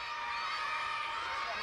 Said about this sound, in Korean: 아이들은 오토다케가 자신들과 전혀 다르지 않다는 것에 환호성을 지른다.